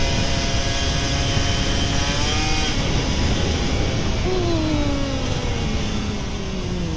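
An old Kawasaki Ninja RR 150 two-stroke motorcycle revs, loud and close, its engine pitch rising and falling steadily over continuous broadband exhaust noise.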